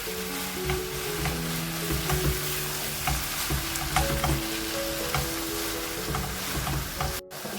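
Keema with green chillies frying in a pan, a steady close sizzle with repeated scraping and stirring strokes, no voices.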